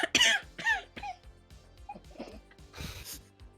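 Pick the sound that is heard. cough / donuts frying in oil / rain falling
cough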